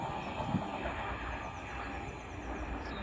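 Class 57 diesel locomotive 57314 hauling a Network Rail MPV on the West Coast Main Line at Hartford, a steady broadband rumble heard from a distance with no clear approach or fade.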